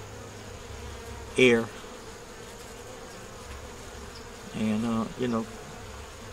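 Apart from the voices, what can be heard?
honey bees buzzing around a sugar feeder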